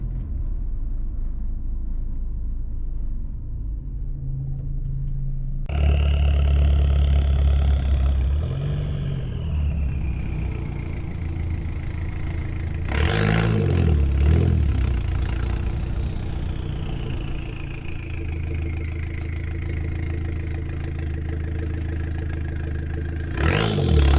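Heard from inside a Dodge SRT-4, the engine rumbles and clatters at idle, then surges into two loud revving pulls with a rising whine, settling back to a steady drone between them.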